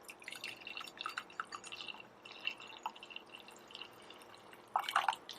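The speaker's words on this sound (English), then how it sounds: "I'm going to take the opportunity to pour a little bit of my tea" Hibiscus herbal tea is poured into a cup, with light trickling and dripping sounds throughout, quiet and close, ending in a brief stronger splash.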